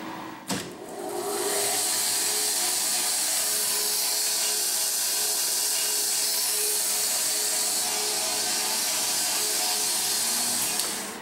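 A Tormach PSG surface grinder grinding titanium gives a loud, steady, bright hiss-like grinding roar that holds without letup after a brief start-up thump, close and alone with no talk.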